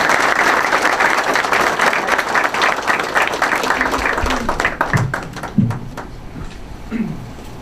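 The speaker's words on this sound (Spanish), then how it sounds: "Así que la recibimos con un aplauso" An audience claps in sustained applause to welcome a female government minister at an education event, the broadband clapping loud and steady before thinning toward the end, with a few low thumps and murmurs underneath.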